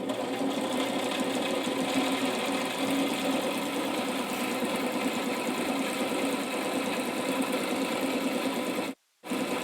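A sewing machine stitching a zippered pouch whirs steadily and close up, then stops abruptly for a moment near the end.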